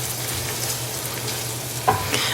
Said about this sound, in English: I'm just going to render out the fat until the bacon gets crispy and the onions get soft